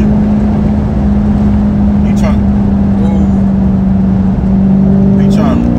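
Car engine droning steadily while driving under light throttle, a loud constant hum heard from inside the vehicle with a slight rise in pitch near the end.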